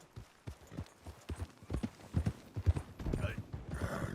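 Hoofbeats of a horse being ridden in Red Dead Redemption 2, a steady run of clip-clop steps growing louder, with people talking over them and a brief snort or whinny near the end.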